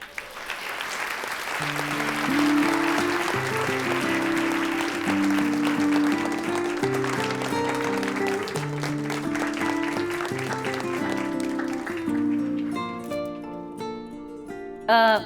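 An audience applauds as guest Nayla Unal is welcomed onto a stage. Steady clapping runs for about twelve seconds over a loud music backing, then thins near the end as the music carries on.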